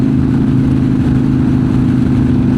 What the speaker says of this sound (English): I do hear wind noise.